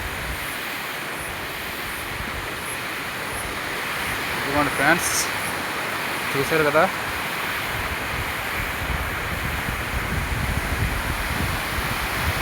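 Kothapalli waterfall near Paderu, a steady broadband roar of rushing water running the whole time, with someone speaking briefly partway through.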